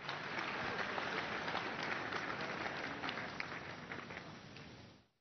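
A church congregation at an Emmanuel TV Sunday service breaks into sustained, dense applause that fills the room evenly for about five seconds before cutting off abruptly.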